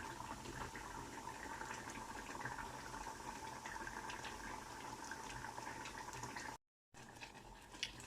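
Dal for Sri Lankan parippu curry simmers in a pot: a steady, quiet bubbling and hissing wash with faint pops, continuous apart from one short dropout.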